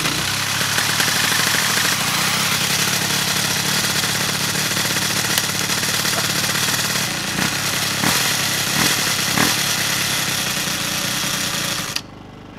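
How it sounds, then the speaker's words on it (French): A small 70cc Piaggio Zip SP racing moped engine starts for the first time after rebuilding, running loud and continuous with a rough, buzzing idle, briefly surging a few times near the end before cutting to quieter background. "le moteur il va démarrer pour la première fois"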